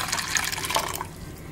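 Water pours into split moong lentils in a cooker pot, a short, close splashing fill that trails off into quiet after about a second.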